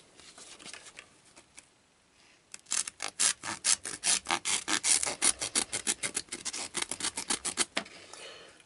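A Mora Marine rescue knife saws through tough military webbing in a quick run of sharp, rhythmic rasping strokes that start after a quiet moment and carry on steadily, close and loud.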